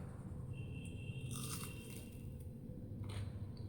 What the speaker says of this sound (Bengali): পুরো মচমচ করছে একদম